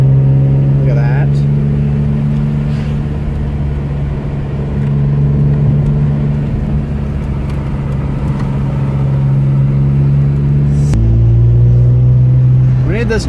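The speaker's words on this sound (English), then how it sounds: "Currently driving on Route 9. It's a very, very windy road." A car travels along Route 9, a winding road, with a steady engine drone and road rumble close inside the cabin and a gear or speed change near the end.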